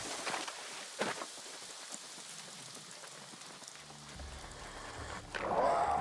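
Steady in-game rain in New World: Aeternum patters on surfaces throughout, with a few sharper drops early and a louder, rougher sound swelling in near the end.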